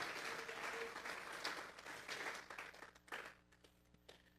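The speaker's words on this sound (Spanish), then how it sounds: "Vamos a regalarle ofrenda de palmas al Dios de la gloria." A church congregation claps together during a service, a dense, fairly quiet applause that thins and fades toward the end.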